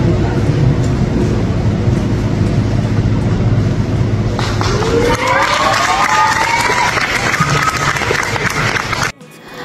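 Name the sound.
crowd cheering as newlyweds kiss at church wedding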